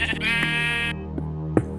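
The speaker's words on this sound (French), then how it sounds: "Et là, je me fais aussi agresser par un mouton." Sheep bleating in the Minecraft video game, a long sustained harmonic bleat followed by short clicks and a brief sharper sound near the end, close and clear with no talk.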